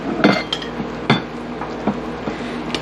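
A spoon stirring a peach mixture in a pot, knocking and clinking against the sides in irregular taps about every half second, close and fairly loud with no voices.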